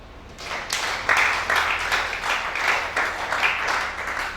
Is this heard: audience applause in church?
yes